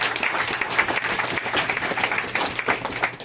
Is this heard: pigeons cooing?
no